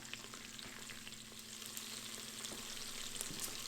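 Onions sauté on high heat in an Instant Pot, giving a soft but steady sizzle with faint crackles and a low hum underneath, quiet and unbroken, with no talking.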